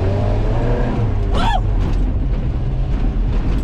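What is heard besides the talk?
1981 Ford Courier truck driving on a test drive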